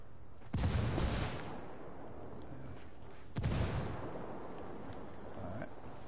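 Two heavy blasts from a frag grenade in the Ghost Recon shooter game, the first loud burst near the start and a second about three seconds later, each with a rumbling tail over steady background noise.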